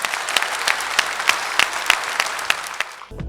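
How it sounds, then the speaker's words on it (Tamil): An audience at a talk event breaks into brisk, sustained applause with sharp individual claps standing out, then the clapping cuts off abruptly into near silence at the end. "நல்ல கைத்தட்டல் கொடுத்துடலாம்"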